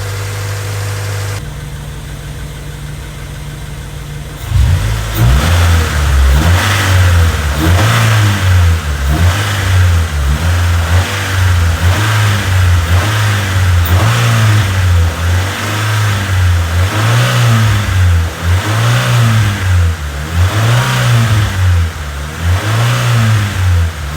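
A freshly rebuilt Honda Civic D16Y8 engine starts and runs loudly up close, settling into a rhythmic idle with regular surging revs repeating every second or so.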